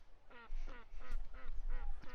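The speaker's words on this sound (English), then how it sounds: "that is reverse duck quacking" A duck's quack played backwards, about six short reversed nasal honks in an even rhythm, close and fairly loud over low background noise.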